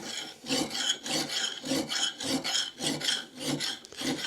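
A cheap axe having its edge sharpened with a file, giving about nine rhythmic rasping strokes close up, each a harsh scrape with short gaps and no talking.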